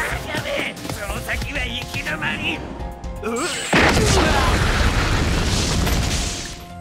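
In the film As the Gods Will, a bomb blast erupts partway through with a sudden loud boom, followed by a sustained roaring, crackling wash of debris and noise after earlier busy, tonal movie sounds.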